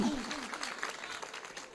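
Scattered audience applause from a live gathering, a modest clatter of claps lasting under two seconds after a sung line.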